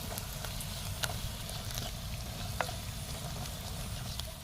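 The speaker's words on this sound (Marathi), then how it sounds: "आता आपण त्यात कोथिंबीर ॲड करणार आहोत परतून घ्यायचं आपल्याला" Spice masala with coriander sizzles as it is sautéed in a clay pot, a steady close frying hiss with faint occasional stirring clicks, no talking.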